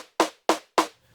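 Original drum sample on an Elektron Analog Rytm track, three identical sharp, bright percussive hits in even succession, each decaying quickly, close and alone.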